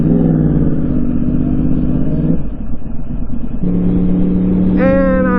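Motorcycle running a new ECU flash tune rides away, its engine droning steadily near and loud, dipping briefly, then rising again into a climbing rev near the end.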